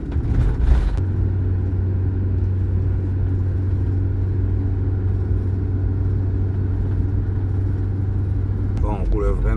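Camper van cruising along a seaside road on a windy morning, a steady close engine drone and road rumble with a low hum, continuous and even, a voice speaking briefly near the end.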